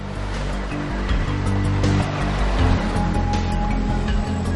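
Sea surf rolls steadily onto a wide, wind-exposed beach on the Andalusian coast of Spain, a continuous loud wash of breaking waves with no voices.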